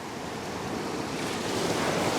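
Ocean surf rolls onto a fishing beach as a continuous, close broadband wash with wind noise mixed in, swelling slightly toward the end.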